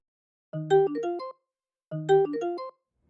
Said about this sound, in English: We'll start by taking a sample from a real Celesta and playing it to the melody.